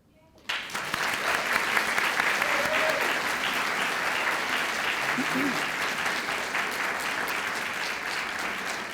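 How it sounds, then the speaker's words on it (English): A dinner crowd bursts into sustained applause for sponsors and committee members, many hands clapping in a dense, even roar that starts abruptly and holds steady to the end. "Please join me in a round of applause for our sponsors, committee members, and most importantly,"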